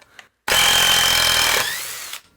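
A Genesis 12-volt lithium-ion cordless impact driver, the kind rated for removing vehicle lug nuts, runs in one loud, continuous burst of nearly two seconds, then cuts off and winds down.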